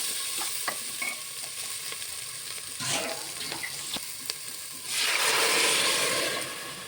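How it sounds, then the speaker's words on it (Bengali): Water poured into a pan of frying spiced dal and potato, stirred with a spoon: close scraping and light clinks give way to a loud, sustained hiss as the liquid hits the hot pan. "এখন আমি এটা পরিমাণ মতো জল দিয়ে দেবো।"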